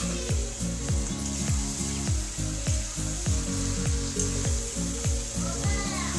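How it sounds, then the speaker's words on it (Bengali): Spices and mutton frying for mutton chaap, a steady sizzle with repeated stirring scrapes in a rhythmic pattern, close and continuous, with no talking. "মশলা কষানো, মাটনটা দিয়ে আমাদের চাপের মাংস হয়"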